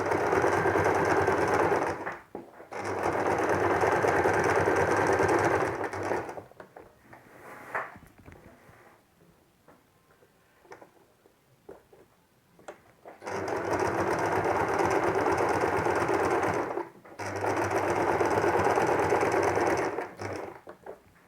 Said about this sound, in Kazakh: Мінекей осылайша зигзагпен машинкамен тігіп шығамыз.